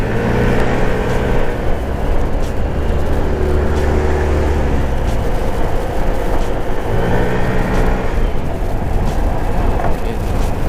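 Motorcycle engine droning steadily while riding on the road, held at moderate revs with pitch shifts as the throttle changes, loud and continuous with wind noise and a voice talking over it.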